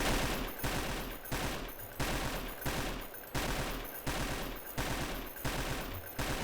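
Gunfire in the SAMP video game comes in a regular rhythm of three-round bursts, about nine bursts in all, each loud and sharp with short gaps between them.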